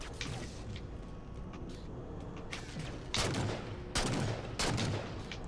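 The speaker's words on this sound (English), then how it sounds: "Taking fire, starboard side." Gunfire in the Halo 4 campaign: a steady low battle rumble, then three sharp bright bursts close together in the last seconds, a faint voice now and then beneath.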